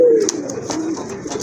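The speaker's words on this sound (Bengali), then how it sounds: "এটা কলসিগোলা মার্কিংয়ের কবুতর" Pigeons of a kolshigola-marked pair in a seller's collection coo in soft rolling phrases, with a steady low murmur and a few brighter flutters over continuous background noise.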